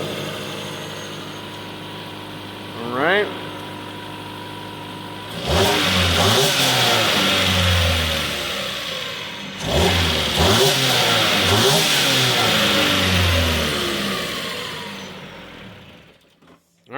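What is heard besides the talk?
Dodge Dart engine cold start and revving, stock air intake box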